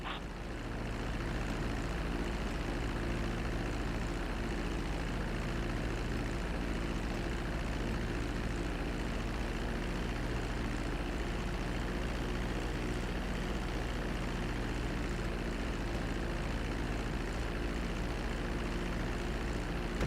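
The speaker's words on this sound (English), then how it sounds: "Be sure to deploy the landing gear before you reach the runway. Start to decelerate while you're still in the air" In Grand Theft Auto V, an airplane comes in to land on a runway, producing a continuous droning engine roar with low rumble, steady and fairly loud for the whole stretch, with no talking.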